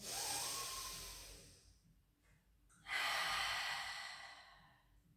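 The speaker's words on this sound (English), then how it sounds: "just take a big breath in" Deep breaths during a relaxation pilates exercise: a long, airy inhale, a brief pause, then a second strong, close breath rushing in, with no talking.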